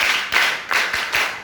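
Pupils repeat the champagne clap routine in a classroom, about four evenly spaced clap bursts in quick succession, moderately loud and close with no voices.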